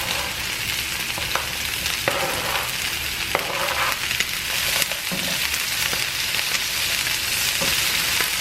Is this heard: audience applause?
no